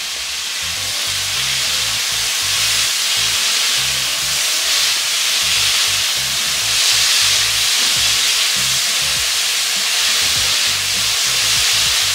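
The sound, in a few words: vegetables cooking in a pan with soy sauce and water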